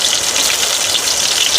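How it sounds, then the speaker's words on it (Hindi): Heavy rain pours down in an Uttarakhand mountain village, a dense, steady hiss of drops drumming on surfaces, loud and close with no voices. "ऊपर से देखो भाई बहुत तेज वाली बारिश भी आ गई है।"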